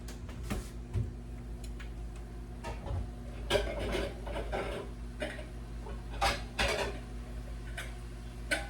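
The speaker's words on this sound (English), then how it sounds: "So let me get a bowl out." Dishes clink and knock in scattered bursts, ceramic taps and a clatter as a bowl is taken out of a cupboard, over a low steady hum.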